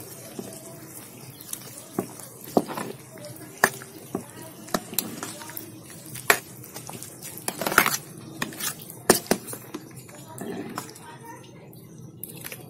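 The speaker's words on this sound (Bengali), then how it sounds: "এবার একটু নাড়িয়ে ঠাকুরেরটা আমি উঠিয়ে নেব থালার ভিতরে, ঠাকুরের খিচুড়িটা উঠিয়ে নেব।" Vegetable khichuri of atap rice scooped from a pot onto a plate with a metal spoon, repeated sharp scraping clinks and taps against the vessel at an uneven rhythm, with faint voices in the background.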